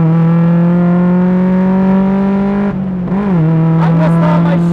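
A Mazda Miata race car engine holds a loud, steady high drone, dips briefly during a gear shift, then pulls again under acceleration, heard close from inside the car.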